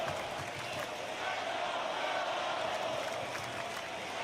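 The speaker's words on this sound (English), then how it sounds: "This crowd here in Boston is trying to rally support for a comeback from Carmelo" A Boston wrestling arena crowd cheers and applauds in a steady, dense roar that holds at an even level throughout, distant-sounding and without distinct voices.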